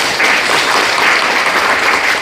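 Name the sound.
audience applause for education ministry officials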